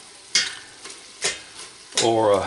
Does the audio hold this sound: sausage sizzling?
yes